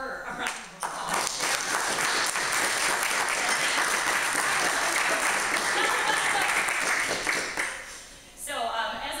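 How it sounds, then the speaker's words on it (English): A luncheon audience breaks into sustained applause, dense clapping that swells and holds for several seconds, then fades as a voice starts speaking. "So we need to give her a round of applause."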